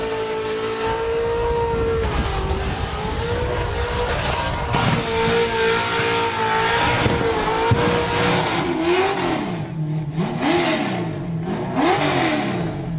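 Open-class burnout competition car holding a long skid, its engine screaming at high revs through loud exhaust pipes with tyre noise, pitch wavering as the driver works the throttle, continuous and close.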